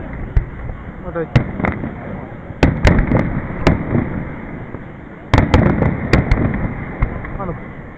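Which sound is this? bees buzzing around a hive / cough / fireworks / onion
fireworks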